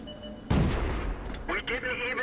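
A World of Tanks tank cannon fires once in a sudden, heavy boom. Its rumbling tail fades over the next second or so, and someone talks underneath.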